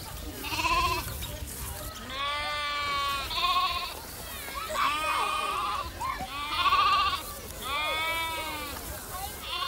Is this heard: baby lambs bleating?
yes